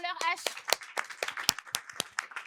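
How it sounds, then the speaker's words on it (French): A studio audience claps for a moment on a talk show about nurses, a dense patter of hand claps mixed with voices talking. "On applaudit pour leur H."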